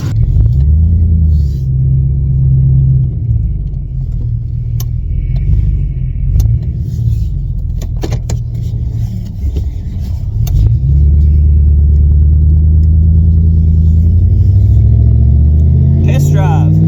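Ford F150 pickup truck with a transmission problem driving on a test drive, its engine rumbling low and steady throughout and rising near the end as it accelerates, with speech heard over it.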